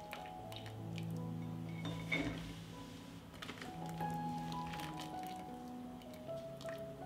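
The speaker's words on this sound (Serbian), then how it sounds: "Pasulj ću iz ove vode izvaditi u činiju." Cooked whole beans are lifted out of their cooking water into a bowl, giving soft wet squishes and drips, faint and close over quiet background music.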